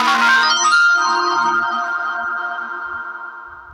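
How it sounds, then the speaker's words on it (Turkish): A phone notification chime rings out alone, a bright tonal melody that sounds once and then fades slowly over a few seconds, close and fairly loud, during beekeeping work in Arhavi. "Yine bildirim diyor."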